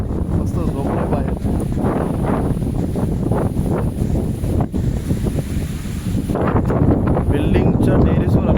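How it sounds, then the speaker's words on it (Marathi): Strong wind at Kanyakumari, on India's southern tip, buffets the microphone in loud, gusty rumbles that sound like surf, with a voice faintly beneath. "कन्याकुमारी फुल वारा."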